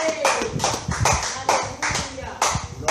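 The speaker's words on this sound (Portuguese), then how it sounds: "dê uma salva de palmas para Ele" A church congregation at an evening service claps in a loose group, bursts of hand claps arriving in an uneven rhythm roughly every half second, fairly close, with voices mixed in.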